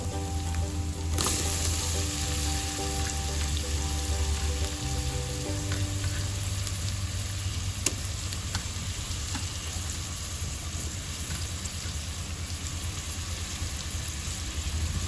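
Tomatoes sizzling and frying in a pan for a home-style chicken curry with turmeric tempering, steady crackling hiss with occasional stirring scrapes, no voices.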